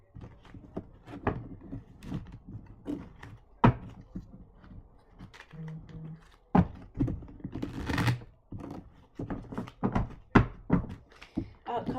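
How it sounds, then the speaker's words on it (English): Keys clacking on a computer keyboard during a live tarot stream, irregular bursts of taps and thunks, fairly close and moderately quiet, with a brief pause in the middle. "Chris, stop typing."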